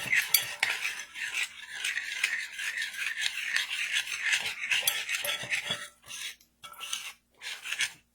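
Spoon stirring eggs, peanut butter, cinnamon sugar, vanilla and salt together in a bowl, a steady run of close clinking and scraping strokes that falls into a few short pauses near the end, with no voices.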